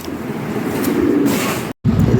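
Blue Bar Lahori pigeons coo in low, steady murmuring tones close by, with a brief dropout near the end before the cooing resumes.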